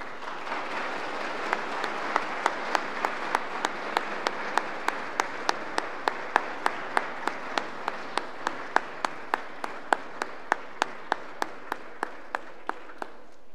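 Audience applause welcoming the President of the Slovak Republic, Zuzana Čaputová, at an award ceremony, a steady dense clapping crowd with a few sharp individual claps standing out, sustained and even throughout.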